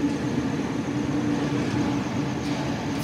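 An A11 train on the Gordon via Central service rumbles steadily past Harris Park station, a continuous near, fairly loud rolling drone with a brief brighter squeal toward the end.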